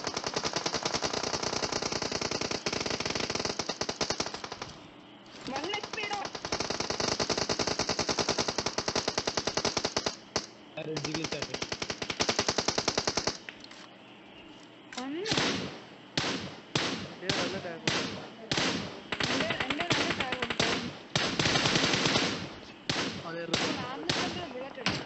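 Automatic gunfire in the battle royale video game PUBG: long sustained bursts give way to rapid, choppy volleys with short gaps, while voices talk over the shooting.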